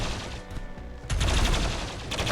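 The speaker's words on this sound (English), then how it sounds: "they just seem to be shooting the guys at the front" Gunfire in the RimWorld video game comes as a dense, continuous rattle of overlapping shots, loud throughout and swelling into a heavier burst midway.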